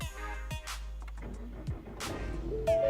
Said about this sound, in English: So clutch in, turn the ignition on,